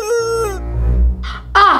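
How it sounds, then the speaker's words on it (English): A chicken close by gives a few short, loud squawking clucks, the calls standing out with brief pauses between them and a low rumbling background underneath. "Ah, the chicken's back!"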